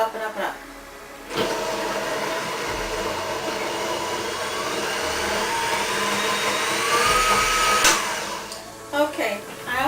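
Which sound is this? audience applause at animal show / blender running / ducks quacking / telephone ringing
blender running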